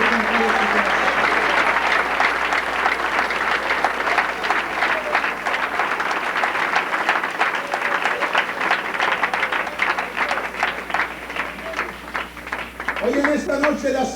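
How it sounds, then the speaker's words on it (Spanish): A church congregation at an evening service claps in a loud, continuous burst of applause lasting over ten seconds, with voices rising near the end as it tapers. "Denle un aplauso al Señor con todo su corazón."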